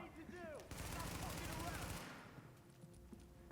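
Bursts of automatic and single-shot gunfire from a firefight in the video game The Division, loud and sustained for about two seconds before thinning out, with a voice talking over it.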